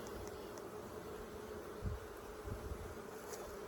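Dense, steady buzzing of many honeybees in an open hive close by, with a few soft bumps and knocks.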